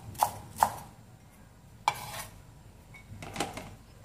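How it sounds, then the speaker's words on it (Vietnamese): Knife chopping green onions on a cutting board: a few sharp, isolated thwacks spaced irregularly, close and crisp against a quiet kitchen background. "Hành lá mình thái nhỏ rồi nhé"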